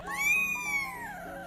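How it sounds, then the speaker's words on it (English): A kitten being groomed with a brush lets out one drawn-out rising and falling protest meow, close and moderately loud, alone. "Loud protest meows during the grooming session."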